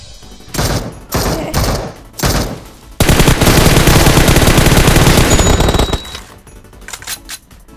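Gunfire in a battle royale shooter video game: a few sharp single shots, then a loud sustained burst of rapid automatic fire lasting about three seconds, followed by quieter scattered shots.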